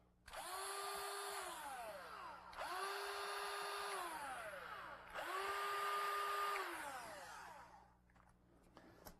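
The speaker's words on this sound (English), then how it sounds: "Then drill the holes." Three separate bursts of a power drill whirring up while drilling pilot holes in a floor for a door sweep, each a couple of seconds long with short pauses between.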